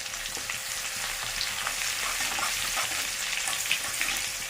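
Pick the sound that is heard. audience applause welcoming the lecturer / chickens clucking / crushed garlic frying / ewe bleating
crushed garlic frying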